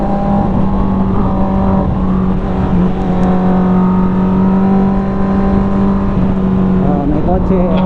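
A car engine droning close by on a night road, steady and loud with shifting pitch as the vehicle passes, with a voice speaking briefly over it.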